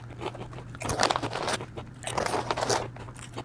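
Someone crunches and eats spicy Thai devil chips, with two loud clusters of crisp crunching bites and chewing close to the mic and a steady low hum underneath.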